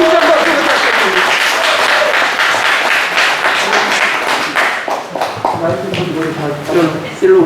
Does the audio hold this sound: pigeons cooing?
no